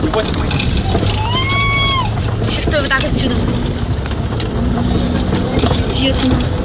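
A car travels along a rural road, its engine and wind rumble forming a loud, steady drone, while voices call out over it with a few rising, tonal exclamations.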